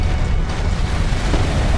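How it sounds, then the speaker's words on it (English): An airstrike explosion in the strategy game Homeworld: Deserts of Kharak, a loud, close, continuous low rumbling blast that fills the whole short stretch without letup. "Enemy airstrike inbound."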